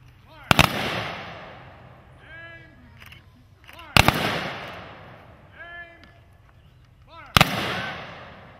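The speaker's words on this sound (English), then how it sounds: "We'll have the VFW firing squad come forward" A VFW firing squad fires rifle volleys at an outdoor Memorial Day ceremony in Lyons, New York: three sharp, loud cracks spaced about three and a half seconds apart, each followed by a brief echo, with faint voices between.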